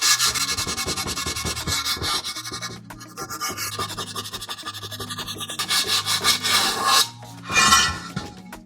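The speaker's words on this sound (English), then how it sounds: "we'll go down to 180s now, and we'll just continue smoothing until we get rid of all those scratches we just put into the alloy" Hand sanding a Ducati alloy wheel rim with 180-grit paper, producing steady close rasping strokes that rub back and forth for the whole stretch, briefly easing then picking up with a few louder swipes near the end.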